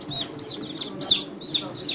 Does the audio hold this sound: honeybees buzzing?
no